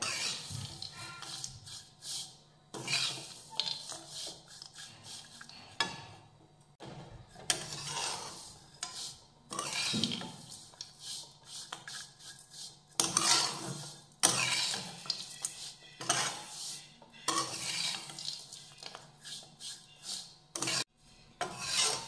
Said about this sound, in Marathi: शेवयांसोबत काजू, बदाम आणि चारोळी सुद्धा 1-2 मिनिटं छान भाजून घेऊयात